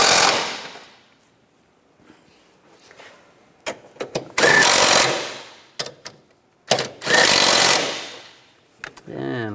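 Bolts on the ignition coils of a 2003-2010 BMW X3 are tightened with a power tool in two loud buzzing bursts, each a couple of seconds long, with clicks and short rattles between them and before.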